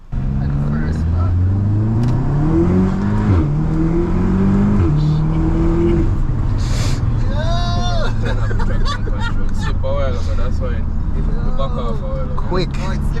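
2018 Audi S3 driving on the road, the engine climbing in pitch through several gears of hard acceleration, then settling into a lower cruising drone as people talk and exclaim inside the car.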